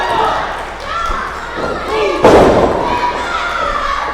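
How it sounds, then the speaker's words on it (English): A wrestler hits a power slam onto the ring mat in a staged fight-club wrestling show: one heavy, loud thud rises over steady crowd noise and commentary. "The Cowboy with a beautiful power slam."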